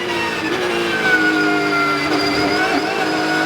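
A Porsche 992 Carrera Cup race car at Assen, its engine droning loudly and steadily through a chicane, pitch rising and falling slightly as it changes speed.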